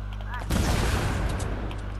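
Gunfire in Fortnite, a sudden loud burst of rapid shots starting partway in and crackling on, with low ambient hum beforehand.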